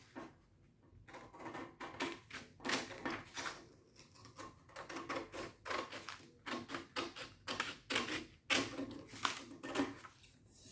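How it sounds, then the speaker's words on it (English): Scissors snip through origami paper in a quick run of crisp, close cuts, with short pauses between bursts and no talking. "So now just take scissors and just cut this part off."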